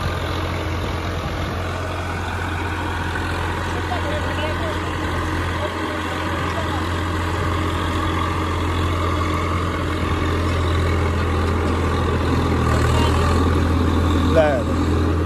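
A New Holland 5620 or Swaraj 855 tractor engine runs steadily throughout with a constant low drone, loud and close, while people talk over it.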